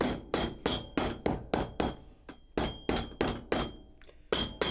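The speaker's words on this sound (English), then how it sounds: "A little hammer time here" Rapid, steady hammer blows strike a boot sole, about three per second, close and crisp, with a brief pause near the end before resuming.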